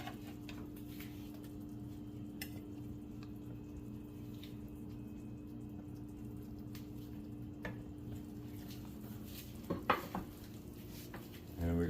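Zucchini goes into a pan of grilled cod in tomato sauce, bringing a quiet, steady sizzle with faint stirring clicks and a few soft knocks, close by and low in level.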